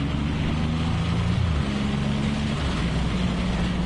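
A Triumph Rocket 3GT triple-cylinder motorcycle cruises along a rough, uneven road, its engine giving a steady low drone with a gear change partway through, loud and continuous with wind noise and no talk.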